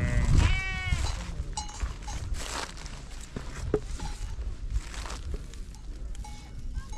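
Sheep bleating on a village farm just before slaughter for a big cauldron meal, with a loud harmonic bleat up front and fainter calls following amid outdoor bustle and footsteps.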